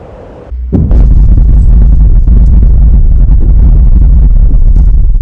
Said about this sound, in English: I hear a train coming around the bend.